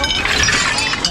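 A dish shatters with a brief, bright crash during dumpster diving for kitchenware, a single close break of ceramic or glass lasting about a second.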